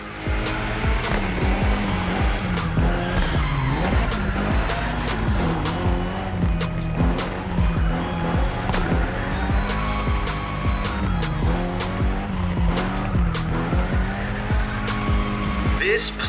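A Mitsubishi drifts in The Crew Motorfest video game, its engine droning steadily while tires squeal continuously through long slides, loud and close with no pause.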